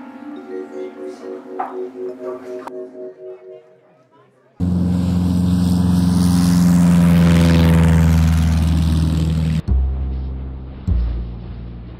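A propeller airplane drones loudly in flight, a heavy, steady engine roar lasting about five seconds, set between quieter, separate sounds.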